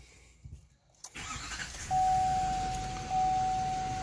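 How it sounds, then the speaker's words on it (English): A 2015 Chevrolet Silverado 2500HD truck engine cranks and catches, then settles into a steady rumbling idle, heard close. A high electronic tone chimes twice from the cab under the running engine. "So I'm going to start the vehicle."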